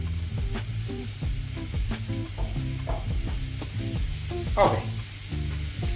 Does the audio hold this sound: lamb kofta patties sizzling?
yes